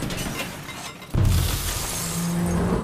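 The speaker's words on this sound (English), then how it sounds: "Or crashing through glass windows." A glass window smashes loudly, a sharp crash with tinkling shards that keeps ringing and scattering for a couple of seconds, close and with nothing else heard.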